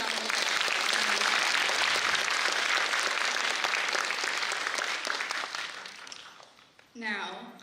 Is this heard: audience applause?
yes